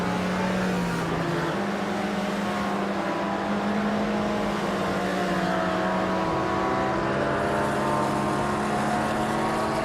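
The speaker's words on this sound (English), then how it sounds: "That Salty Serena is driving a 1963 Ferrari 250 LM, a vintage street car" Race car engine in a racing video game, with several vintage cars on track including a 1963 Ferrari 250 LM and a retro BMW 325i E30 Touring; a steady, loud engine drone with shifting pitch runs throughout, no talk.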